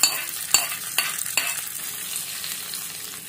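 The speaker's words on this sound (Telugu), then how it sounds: "మనం ముందుగా రెడీ చేసుకున్న ఈ రైస్ లో ఈ తాలింపుని వేసుకుంటున్నాము." Hot tempering (tadka) poured into cooked rice for curd rice, giving three quick sharp hissing splashes followed by a steady, softening sizzle, close by with no talking.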